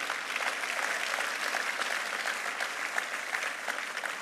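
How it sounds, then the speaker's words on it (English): A church congregation claps in sustained, dense applause at a sermon on thanksgiving, steady and even throughout with no talking. "If that clap is for Jesus, make it bigger"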